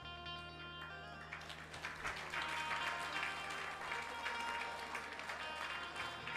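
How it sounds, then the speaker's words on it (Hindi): An audience at a Hindi religious talk claps in joy. The applause is faint and distant, with a steady hum under it, and it swells slightly midway. "तालियां खुशी में बजी हैं।"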